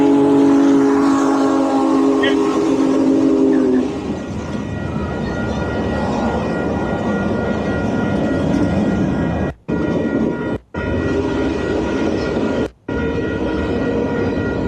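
A freight train pulling grain hopper cars passes close by, opening with a steady multi-tone whistle blast that cuts off, then a continuous rolling rumble of wagons with brief drops in the sound.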